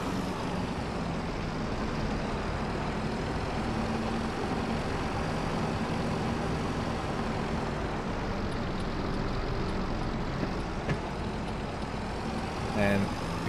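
Tractor engine in a farming simulator game, a steady, loud broadband drone that holds at an even level throughout as the machine drives along, with a brief louder clatter near the end.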